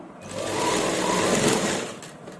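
A sewing machine runs steadily as it stitches a kameez, a continuous close whirring motor hum that swells slightly through the middle and eases near the end, with no talking.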